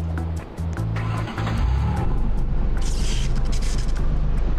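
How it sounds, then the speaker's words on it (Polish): A car is dragged into a grinding shredder in Roblox Car Crushers, with a loud, steady low rumble and churning mechanical noise that thickens partway through and carries on without pause. "odpalić sobie kulturalnie ee, niszczarkę, która wciągnie nasze auto i od dołu, i od góry"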